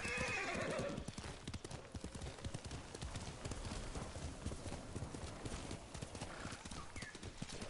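Rhythmic horse hooves clip-clop steadily in the video game Ghost of Tsushima, opening with a loud neigh; a faint whinny returns near the end.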